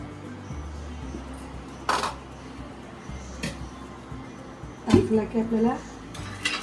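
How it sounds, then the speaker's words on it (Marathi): A metal cooking pot set on a lit gas stove for a crab curry, giving a few sharp clanks and a short burst of rattling metal against the steady hiss of the burner. "ओके गॅस पेटवून घ्यायचा आहे त्याच्यावरती मम्मीने टोप ठेवलेला आहे"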